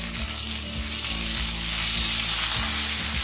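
Okra roasting in a pan with freshly added chopped tomatoes gives a loud, close, dense sizzle, with a rhythmic stirring scrape and a low steady hum underneath.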